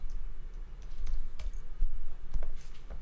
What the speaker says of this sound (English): Typing in Doomsday on YouTube is hilarious.